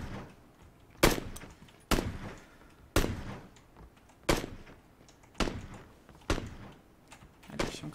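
Gunfire in PUBG Battlegrounds: seven sharp, loud shots spaced roughly a second apart, each with a short decaying tail over a low background murmur.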